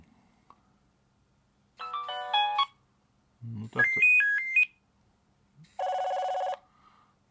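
A Nokia 6230 mobile phone plays loud ringtones through its speaker in three separate bursts of bright, stepped electronic melody and tones, with a brief spoken word between them.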